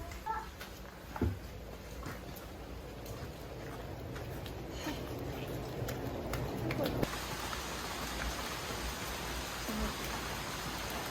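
Heavy rain pours down steadily in a Tokyo park, a dense hiss that grows noticeably louder partway through, with a few faint voices beneath it.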